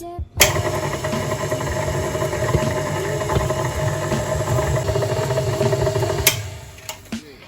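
A stand mixer with a paddle attachment runs on its lowest speed, mixing a tart dough into fine crumbs: a steady mechanical whir with a faint rhythmic clatter, starting and stopping abruptly, close and clear.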